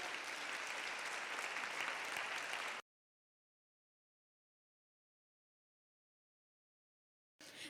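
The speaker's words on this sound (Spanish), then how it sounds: "Dale un fuerte aplauso." A church congregation bursts into loud, dense applause for nearly three seconds, then it cuts to silence before a brief return of the clapping at the very end.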